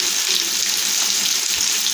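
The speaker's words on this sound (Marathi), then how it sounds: "मासा आपला हा छान तेलामध्ये एकदम व्यवस्थित फ्राय होत आहे" Fish coated in rava and rice flour frying in hot oil in a pan, a steady, loud, dense sizzle holding evenly throughout with no pauses.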